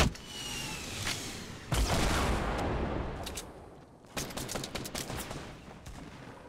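Fortnite gunfire in a duos match against squads, bursts of rapid shots and heavy booms that cluster early and return later as quick volleys, some louder and closer than others.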